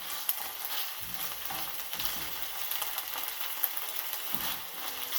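Grease sizzling in a frying pan with ginger, a steady bright hiss broken by scattered sharp pops throughout, close and fairly loud, with no voices.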